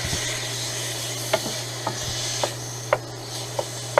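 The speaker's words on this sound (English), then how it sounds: "I'm going to put some beef for stir fry in." Beef stir fry with Hawaiian barbecue sauce sizzles in a pan in an RV kitchen under a steady low hum, with a utensil scraping and tapping the pan at regular intervals, close, with no talk.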